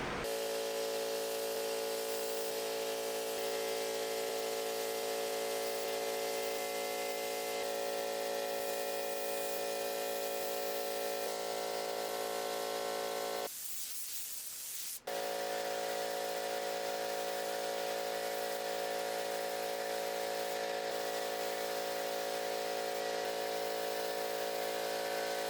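Steady hiss of a spray gun laying clear coat on a BMW E30 body with a 650HP turbo M50, a broad continuous wash in a dusty garage booth, broken by one short pause before resuming.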